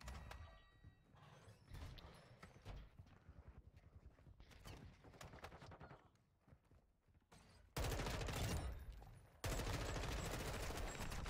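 Gunshots in Call of Duty MW2 multiplayer: rapid bursts of automatic fire, fairly faint, punctuated by loud sudden blasts near the end.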